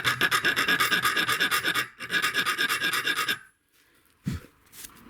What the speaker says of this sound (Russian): Напильнику не поддается.